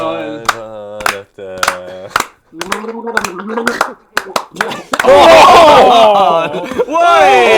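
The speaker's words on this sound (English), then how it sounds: "Right, I need a beat. Come on, a clap." Hand claps in a quick irregular beat, sharp and close, mixed with lively voices talking and shouting over them, the chatter growing louder and busier toward the end.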